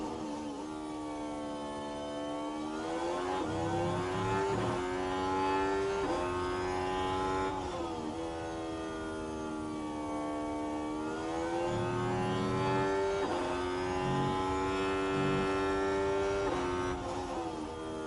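Formula 1 race car engines in F1 Manager 24 at Lusail, a steady high whining drone with rising and falling pitch as cars lap, continuous and moderately loud throughout.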